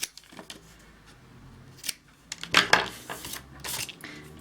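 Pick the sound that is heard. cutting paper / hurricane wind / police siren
cutting paper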